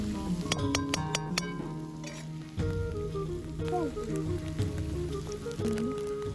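Spices sizzle in hot oil while green moong curry is cooked at a camping spot, a bright steady frying hiss broken by clinks and scrapes of a utensil against the pan.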